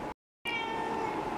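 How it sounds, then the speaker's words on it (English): A cat gives a single short meow after a brief cut of silence, close and fairly quiet in a calm indoor room. "she's meowing"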